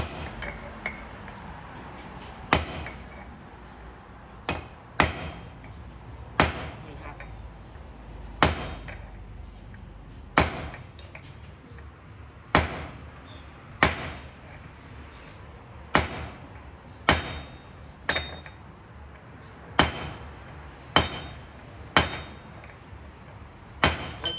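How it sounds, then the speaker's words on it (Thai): Steel hammer blows on a Honda Wave motorcycle clutch housing being peened all around its rim: about seventeen sharp, ringing metallic strikes at uneven intervals of one to two seconds, close and loud, with no talking. "ตอกไปเรื่อยๆย้ำไปเรื่อยๆครับ"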